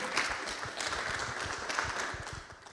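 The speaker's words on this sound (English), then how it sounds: "Quick round of applause." An audience at a London LED summit applauds in a short, moderate round of clapping that stays even and fades slightly at the end.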